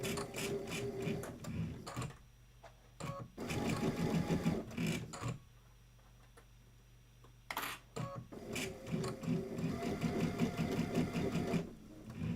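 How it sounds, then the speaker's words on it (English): Sewing machine stitching down a quilt border runs in steady rapid bursts with brief pauses between runs, close and clear with no talk. "I'm going to just sew down that line."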